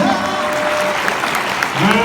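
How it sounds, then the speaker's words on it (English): A convention audience claps and cheers after a comedy skit performance at a fan convention show, a loud, dense burst of applause filling the room continuously. "Guys, big round of applause."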